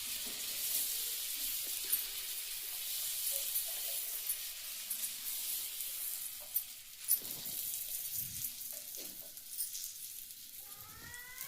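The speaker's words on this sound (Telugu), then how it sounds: "రెండు వైపులా కాల్చుకోవాలి. క్రిస్పీగా అయ్యే వరకు కాల్చుకుంటే పావు బాజీ టేస్టీగా ఉంటుంది." Pav bread toasting crisp on both sides on a hot pan for street-style pav bhaji, a steady close sizzle with occasional clinks and scrapes, no talking.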